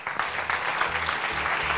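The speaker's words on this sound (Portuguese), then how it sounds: "Um forte aplauso para ela." A television studio audience claps for a pharmacist guest arriving on a Portuguese talk show, a brief, even burst of loud applause filling the whole moment.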